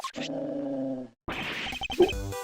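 Game sound of a dog growling at a chocolate cake in Ace Attorney Investigations: a sustained, harmonic-rich growl, a short pause, then a rougher snarling burst, fairly close and alone without speech.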